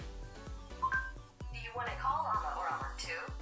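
A smartphone rings with an outgoing call placed by voice command, a steady repeating tone with a melodic chime rising over it, while someone talks through it.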